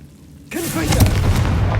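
A Confringo fire spell in Hogwarts Legacy bursts suddenly into a loud, booming blast that rolls on with a crackling, roaring tail, close and full.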